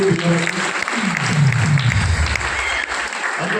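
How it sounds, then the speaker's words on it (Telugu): A church congregation clapping their hands together, a dense sustained burst of applause filling the room, with voices audible beneath it before it thins out. "అందరూ చప్పట్లు కొట్టండి"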